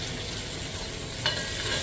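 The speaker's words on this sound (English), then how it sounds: "Onion and the oil. Fry it up nicely." Onion frying in oil makes a continuous, even sizzle at moderate loudness, with one small spatter of crackle partway through and no talking.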